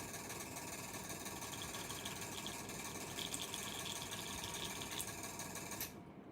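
Airbrush spraying while being cleaned out, a steady, loud hiss of air and paint mist with faint mechanical rattling, running continuously and then cutting off abruptly at the end.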